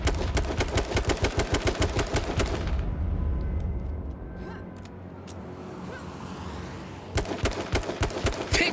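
Rapid bursts of automatic gunfire crackle loud and close in a competitive video game match, falling away to a quieter stretch midway before another volley of shots starts up.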